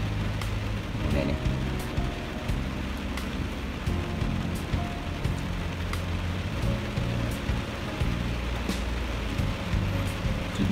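Heavy rain pours steadily onto a surface, a dense continuous roar with scattered sharper drop hits and a low rumbling undertone throughout, close and unbroken.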